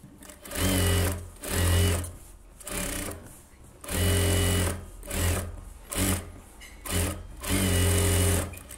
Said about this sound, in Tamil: லைனிங் எடுத்து விட்டுட்டு தையல் போட்டுக்கலாம்.